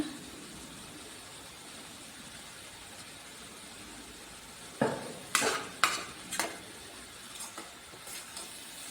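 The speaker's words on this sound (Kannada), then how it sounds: "ಈಗ ಒಂದು ಸ್ವಲ್ಪ ಸೋಯಾ ಸಾಸ್ ಹಾಕ್ಕೊಳ್ಳೋಣ." Soy sauce splashes into wheat momos stir-frying in a pan: a quiet background hiss, then a series of sharp sizzling bursts and scraping stirs that gradually fade, with no talk.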